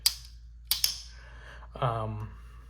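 A Microtech manual Stitch knife with a frag-pattern handle, fidgeted in the hand: three sharp close metallic clicks, two in quick succession, then a short scraping slide.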